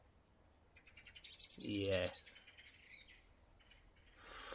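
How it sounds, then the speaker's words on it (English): Bird call outdoors, a single loud burst of chirping notes lasting about a second, with faint insect-like buzzing before and after and a short spoken word. "I'm going to shoot that bird."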